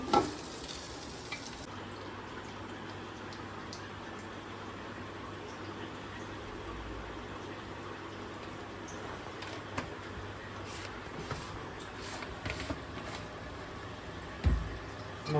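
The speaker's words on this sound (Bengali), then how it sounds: "আমাদের মাংসটা দেওয়া হয়ে গেছে, এবার খালি কষাবো" Meat frying in a pan with turmeric, Kashmiri chili, coriander and cumin powder, a soft steady sizzle with scraping stirs and a few clinks, moderately quiet throughout.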